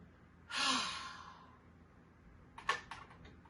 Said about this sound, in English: Inhale through the nose. Exhale out of the mouth.